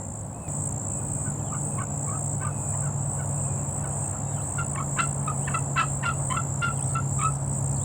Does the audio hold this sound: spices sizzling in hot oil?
no